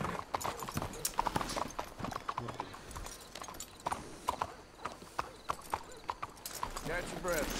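Horse hooves clip-clop in the video game Red Dead Redemption 2, steady close hoofbeats with an occasional whinny, mostly under people talking.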